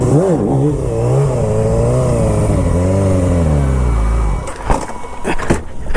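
A car in a parking lot revs hard through rising and falling engine pitch during handbrake and clutch-kick drifting, loud and close, ending in a few sharp bursts and clatter.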